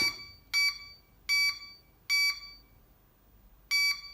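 Four bursts of sharp, high electronic beeping from a faulty portable power station under repair, each short cluster of tones separated by brief pauses, with no talking.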